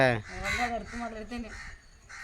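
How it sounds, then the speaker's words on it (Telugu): Crows cawing outdoors by a home garden: several harsh, nasal caws in quick succession, fairly close and clear, with a voice speaking alongside. "ఓ పక్క నుంచి ఏమో కాకులు"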